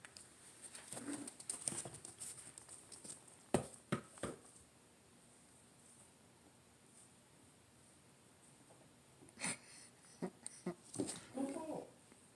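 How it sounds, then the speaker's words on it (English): A few sharp dog barks spaced apart over a quiet background, with some soft shuffling and patter between them; a short burst of activity near the end. "That's a good bark. Do you hear that?"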